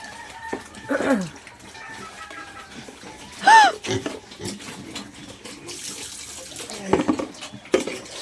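Water pours and splashes in uneven bursts into a drinker for chickens, with clucking birds and scattered rustling nearby.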